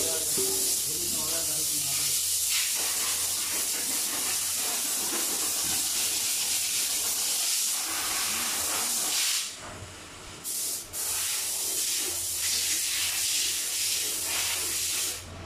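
A strong, continuous hiss of refrigerant gas under pressure being charged into a Mercedes Actros truck's air conditioning from a cylinder fills the clip, briefly dropping out near the end, with someone talking over it.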